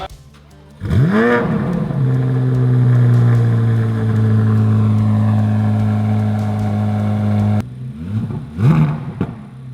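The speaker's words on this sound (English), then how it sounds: "We're gonna get us a little before clip of the exhaust." A Chevrolet C8 Corvette Z06 with a Paragon cat-back exhaust revs up hard, holds a steady loud droning note for several seconds, then cuts off and blips twice more.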